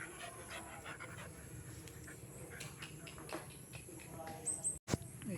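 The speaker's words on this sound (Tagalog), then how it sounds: "Doon yung mga aso." Dogs pant rapidly and continuously close by, the breathing mixed with background noise and a brief sharp squeak near the end.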